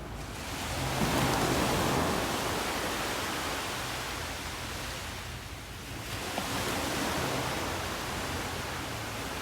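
Sea waves wash beside El Nido Beach Hotel in the Philippines, a broad continuous surf roar that swells and eases in long slow surges, loud and close with no voices.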